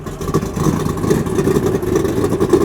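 1969 Camaro RS engine idling and revving through a custom exhaust exiting under the rear stone tray, a loud, close, burbling rumble with uneven pulsing rises in level and no talk.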